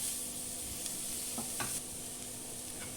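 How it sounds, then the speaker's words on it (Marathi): Ginger, garlic, turmeric, masala, a little sugar and salt sautéing in a pan for soya khichdi, giving a steady soft sizzle with a few light scrape-like stirs, close and alone. "मसाला आणि हळद, थोडीशी साखर, मीठ, आलं लसूण चांगल्यापैकी परतून घ्यायचंय"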